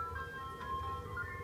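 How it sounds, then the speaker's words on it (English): An ice cream truck's jingle plays as a steady melodic tune, moderately close, over a low rumble of background noise, with no voices in between. "Ice cream truck!"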